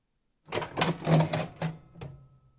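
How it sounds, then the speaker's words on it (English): A mechanical clatter of levers and a drawer sliding open on an antique Lamson cash register, ending with a short bell ring, close and crisp in an otherwise quiet space. "drawer open with bell, antique Lamson cash register"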